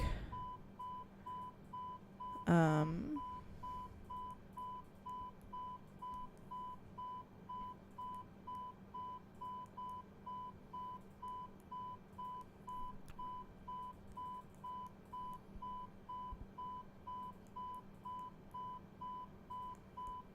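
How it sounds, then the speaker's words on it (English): Faint, steady electronic beeping repeats at a regular pace throughout in an A320 cockpit in Microsoft Flight Simulator 2020, with a brief louder chirp near the start over a low hum. "we have an annoying beeping noise that I do not like"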